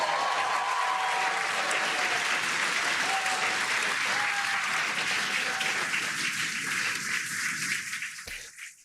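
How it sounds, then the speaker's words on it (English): SpaceX staff clap and cheer as the Crew 9 spacecraft splashes down, a loud, continuous wall of applause with faint tones beneath, tapering off and ending abruptly near the close. "explain who those people were that were clapping"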